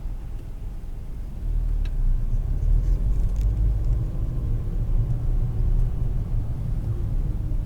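Steady low engine rumble from inside a car as it pulls away in first gear at a town roundabout, the drone rising slightly in level after the first two seconds and holding constant, with no talk.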